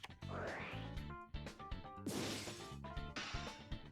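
The Smashing Ground card effect in Yu-Gi-Oh! GX Tag Force 2 sounds as a rising whoosh and a heavy crash, then a second smash with crackling debris, all over busy game music.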